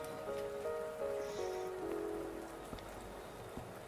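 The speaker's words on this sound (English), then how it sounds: "Are you trapped here by the rain?" Steady rain patters in the Wuthering Waves game, a dense even hiss held for the full few seconds, with musical tones layered over it and no talking.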